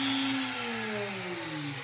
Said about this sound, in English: So the spindle will click on and you'll hear it.